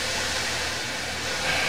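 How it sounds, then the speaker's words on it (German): Generator fans driving a rotating airflow through a dry-ice convection model, roaring like a giant vacuum cleaner. The broadband rushing hiss holds steady and close throughout, with no voices over it. "Wenn ich den Generator anschalte und den Luftstrom durch die Ventilatoren rotieren lasse"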